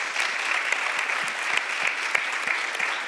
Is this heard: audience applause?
yes